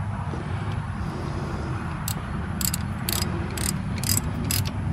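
Ratchet snugging bolts on a Cummins 3.8L engine water pump on a Case 580, heard close as several short bursts of quick clicking against a low, steady background rumble.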